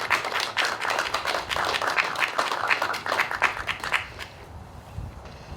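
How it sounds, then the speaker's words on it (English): A round of audience applause at a library ribbon cutting ceremony, with dense clapping that holds steady before thinning out and fading toward the end. "Join me in a round of applause for everyone I've mentioned."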